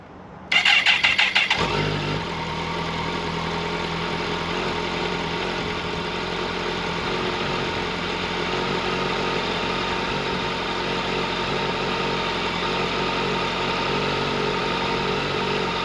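Kawasaki Concours 1400 motorcycle with stock exhaust cranks briefly, fires up and settles into a smooth, steady idle that continues for about fourteen seconds, heard close with no talking.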